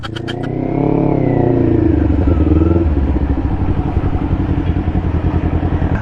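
A motorcycle engine runs close by, rising in a rev and then settling into a steady, rattling idle, with a few clicks at the start.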